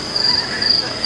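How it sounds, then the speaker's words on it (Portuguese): Steady, high-pitched cricket chirping plays as a sound effect in a supermarket, continuous and fairly loud with regular pulsing trills. "Eu queria os grilos de novo, acho muito engraçado."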